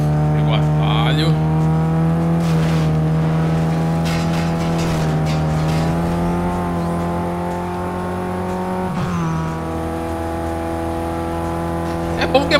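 VW Beetle (Fuscão) racing in NFS Carbon Redux, a loud, steady engine drone that rises and shifts in pitch as it accelerates, with someone talking over it.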